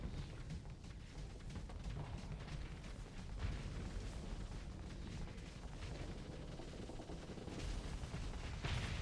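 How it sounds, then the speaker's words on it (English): Missiles launch in the space combat game Starsector as a dense, continuous barrage of booming, crackling blasts that rumbles steadily throughout without pause. "So I'm gonna throw some missiles like this."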